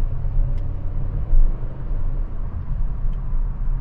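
A Honda WR-V 1.5 RS compact SUV with a CVT accelerates, heard from inside as a steady low engine and road rumble that swells briefly and then holds evenly.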